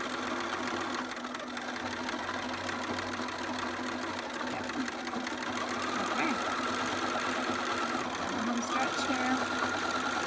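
A home sewing machine stitches the crotch seam of upcycled newborn prop pants, a steady mechanical whir running continuously near and loud under a talking voice.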